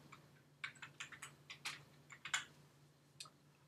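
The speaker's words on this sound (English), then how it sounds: "I've tried to type in the date command with the /t switch, and I obviously didn't type correctly" Typing a command on a computer keyboard at a command prompt, a quiet run of about a dozen separate key clicks at an uneven pace, heard close up with no talking.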